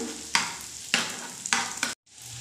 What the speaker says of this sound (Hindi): तो चलिए अदरक को भी हम आधे सेकेंड के लिए भून लेते हैं।